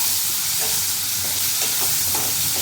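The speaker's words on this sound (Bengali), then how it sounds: "ভালো করে ভাজতে হবে।" A ginger, garlic, onion and green chili paste frying for mushroom masala, a loud dense hiss of sizzling oil with faint stirring taps underneath.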